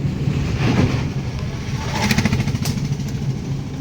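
A motorcycle engine on a mountain road to Kinnakorai, the last village of the Nilgiris, drones steadily and fairly close, with faint rising revs partway through and no talk over it.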